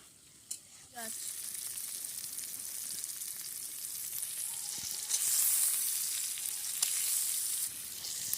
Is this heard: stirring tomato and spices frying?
yes